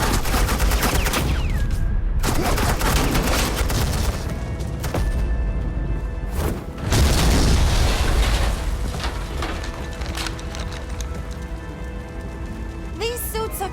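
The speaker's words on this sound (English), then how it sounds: "suppressing fire" Rapid gunfire in Batman: The Enemy Within bursts out as suppressing fire, dense, loud crackling volleys that run almost continuously with game music and effects underneath.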